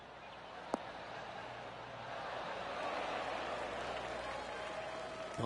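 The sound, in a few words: golf clap applause from video game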